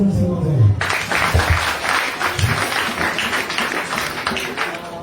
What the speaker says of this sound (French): Applaudissons-nous s'il vous plaît.